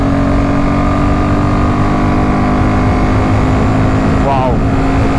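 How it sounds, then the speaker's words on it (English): A Royal Enfield Himalayan 450 motorcycle engine pulls from 100 to 120 km/h on a trail ride, a steady loud drone with strong wind rush blasting over it throughout. "Let us now hear the grunt of the Himalayan when it goes from 100 to 120"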